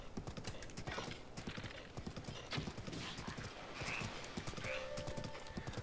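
Horse hooves clip-clop in a steady rhythm in The Legend of Zelda: Breath of the Wild, with a brief whinny, faint game effects and quiet background sound.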